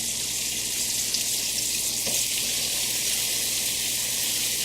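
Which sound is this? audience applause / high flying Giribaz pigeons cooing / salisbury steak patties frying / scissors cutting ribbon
salisbury steak patties frying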